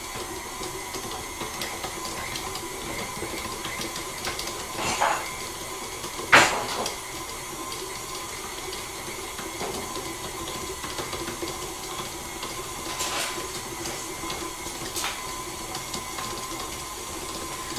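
A steady mechanical whir runs throughout at low level, like an electric mixer working, with a few brief clatters and knocks.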